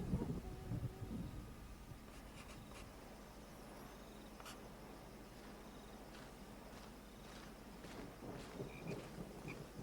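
A stormy scene in a French cartoon carries faint steady rain and a low distant thunder rumble, with scattered patters and brief clicks over a quiet background.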